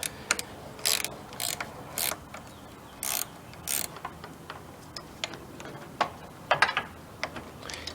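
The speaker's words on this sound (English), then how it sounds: "First thing we're going to do is undo the battery with an 8mm wrench." An 8mm wrench loosens the battery terminal on a 2004 SVT Cobra, giving a series of light metallic clicks and ratcheting ticks in short bursts, close and fairly quiet, with no talking.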